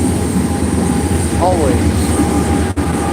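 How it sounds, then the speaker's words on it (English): A passing train fills the background with a steady, loud low rumble and broadband roar that holds for the whole stretch, with a brief spoken word heard over it. "There's a train going by, so I'm not trying to yell."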